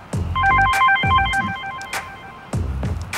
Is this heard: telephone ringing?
yes